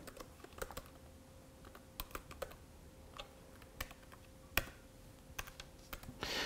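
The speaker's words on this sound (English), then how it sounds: "I could type, and then the password." Close, crisp keystrokes on a laptop keyboard, typed while entering network details during a home automation controller setup, come in irregular bursts of clicks with brief pauses and no talking.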